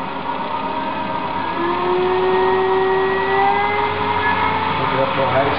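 An electric motor from a Kaylor Kit whines at higher speed, a steady drone with rising tones that climb slightly over several seconds and run continuously at close range.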